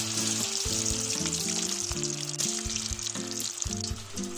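Meal maker kola balls deep frying in hot oil, a dense continuous bubbling sizzle heard up close and alone, with no talk.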